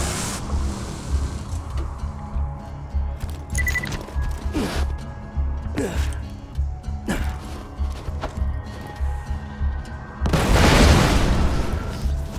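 Grenades in Borderlands 2 go off in a series of punchy booms and thuds scattered through the scene, ending in a larger, louder blast near the end, with game ambience between hits.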